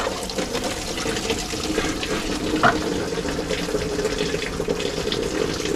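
Antifreeze drains from the radiator petcock of a 1986 Chevrolet C20 Suburban into a funnel: a steady, close trickling and splashing stream runs without a break, with one brief knock partway through and no talk.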